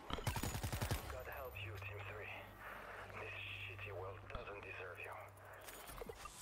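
Gunfire in the zombie shooter World War Z Aftermath opens with a rapid burst of shots, followed by a long stretch of continuous game noise and a low drone while players talk over it.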